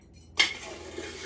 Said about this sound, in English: Scraping the bottom of my sugar